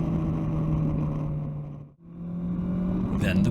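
Steady motorbike engine drone with heavy wind rush during an overtake of a white van on a road near Loch Ness, the tone dipping briefly midway before holding on, close and loud, no talk.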